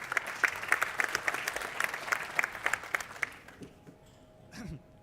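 Audience applause for a speaker at a conference session on the Smart Dubai platform: steady crowd clapping for about three and a half seconds, then dying away into a faint tone and a brief thump.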